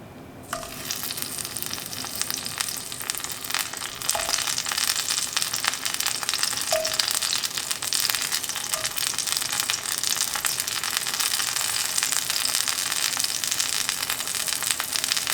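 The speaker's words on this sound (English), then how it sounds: "I'm going to first start off by sauteing the tomatoes. And we just simply add them to the skillet." Tomatoes sauté in a skillet with a loud, continuous hiss and crackle that builds after the first second and holds steady throughout, with no talking.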